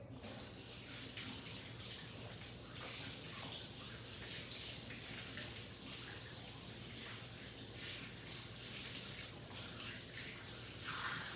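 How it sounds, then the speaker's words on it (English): Hands being rinsed under a running kitchen tap while making croissant dough, a continuous close rush of flowing water with light splashing throughout, no talking. "I'm gonna rinse my hands real quick."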